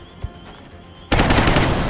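A single loud weapon shot bursts in from the XCOM Long War strategy game after a quiet stretch, with a brief echoing tail.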